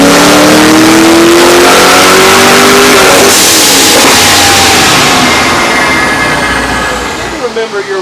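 A Holden Ute engine on a dyno roars through a hard pull toward 6,500 RPM with added timing, pitch climbing loud and close, then falling away as it winds down.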